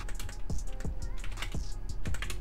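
Rapid keystrokes on a computer keyboard while code is typed into a Roblox Studio script, a steady run of light clicks with a few louder taps, close and clear over a low room hum, with no talking.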